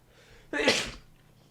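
A single sharp sneeze bursts out close to the microphone during a casual podcast chat, loud and brief, with quiet room tone before and after.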